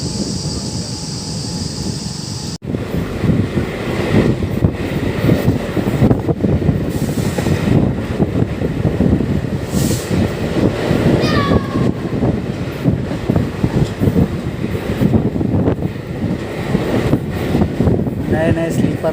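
Intercity Express train 14102 running on its route after departing Jalalpur, with a steady loud rumble and rattle of the carriage throughout, with a sharp break near the start and a person talking over it.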